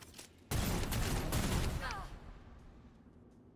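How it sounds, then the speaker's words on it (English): Heavy bolter fire in the Necromunda: Underhive Wars video game: a loud, dense burst of rapid gunfire breaks in suddenly, rattles for about a second and a half, then trails off into quiet. "Yeah, that's a heavy bolter, just like I've got."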